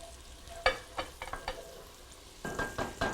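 Chopped garlic sautés in oil in a pan for a pasta and bean soup, with a few sharp utensil scrapes and knocks over a low sizzle that grows busier toward the end.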